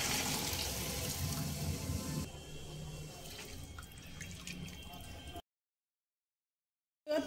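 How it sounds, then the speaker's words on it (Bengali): Hot water is poured into rice in a cooking pot for cauliflower pulao, making a steady splashing rush that is loud at first and softer later. The sound then cuts to silence before a brief noise at the end. "দিয়ে দেব 6 বাটি গরম জল।"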